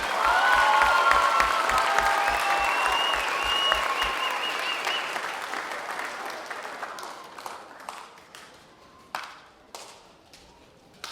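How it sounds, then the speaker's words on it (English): Audience applause at a school band spring concert, a loud dense wave of clapping with some cheering that gradually thins and fades into scattered final claps. "Let's give one round of applause."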